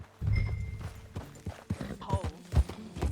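Horse hooves clip-clop in a steady rhythm under a ridden horse in the video game Red Dead Redemption 2. The hoofbeats are close and moderately loud, with a few soft thuds between them and no talking.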